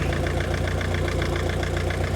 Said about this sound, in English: that started, that was a hot engine, wasn't it?